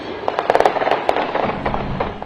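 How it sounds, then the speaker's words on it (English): Rapid crackling gunshots ring out at a victory celebration that turned violent, a dense burst of sharp pops over roughly two seconds with a noisy crowd beneath. "Gunfire, screams"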